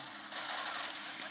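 Rapid, steady automatic gunfire rattles continuously in a dense, hissy burst, like a video game firefight heard close up.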